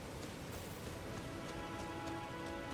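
Rain falls in the Lands Between of the video game Elden Ring, a soft, continuous wash of drops with a faint steady tone underneath, even and moderately quiet throughout with no voices.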